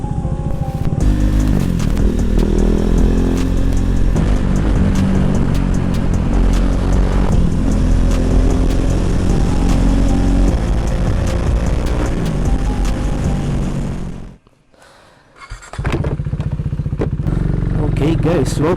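A KTM Duke 390 motorcycle rides through city streets, its engine loud and close under constant wind roar, with pitch swells as it revs. The noise briefly cuts out near the end, and a rider's voice is heard now and then.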